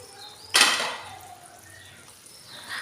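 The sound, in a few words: lid being lifted off a cooking pot while making shukto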